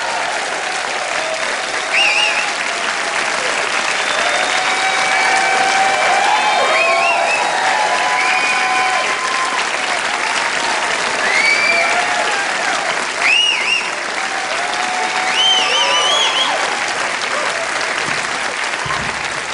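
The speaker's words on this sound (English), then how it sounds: "Let's have a big round of applause, please, for the guitar." A comedy club audience gives a long, sustained round of applause, dense clapping mixed with scattered whoops and cheers that holds loud and even for nearly twenty seconds.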